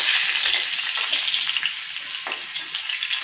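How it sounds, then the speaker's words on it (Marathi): Finely chopped garlic fries in hot oil with a loud, close, continuous hiss and crackle, and a few faint stirring movements run through it. "लसूण ह्या तेलामध्ये छान परतवून घ्यायचं आहे"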